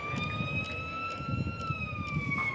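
A wailing fire-engine siren on a miniature model at the Mini-Europe park in Brussels, a steady rising and falling tone sounding continuously over a bed of crowd and outdoor background noise.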